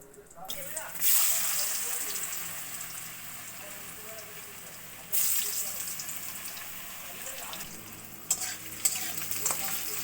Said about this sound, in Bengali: আলুগুলো এবার ভেজে নেব ওই রাঁধুনি ফোড়নের মধ্যে।